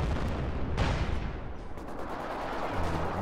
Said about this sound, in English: I'm hearing artillery firing again somewhere.